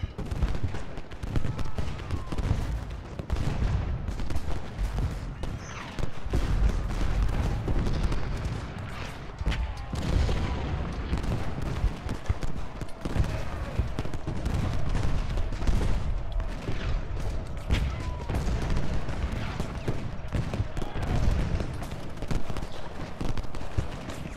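Heavy, dense rumbling of repeated booming cannon blasts and crackling gunfire in a video game battle, continuous and loud throughout.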